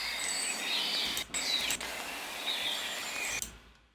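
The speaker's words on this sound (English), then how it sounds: "So here's like rainforest birds" A rainforest birds sound effect: chirping birds call over a steady hiss of ambient background, several high tweets overlapping, fairly close, before the sound cuts off near the end.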